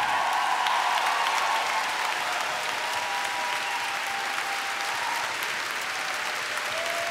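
Sustained audience applause from a large crowd, dense and steady clapping that fades slightly but continues throughout, with no talking over it.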